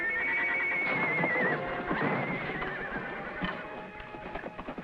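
A horse gives a long, loud wavering whinny close by, followed by scattered hoof clops on the ground with no talking over it.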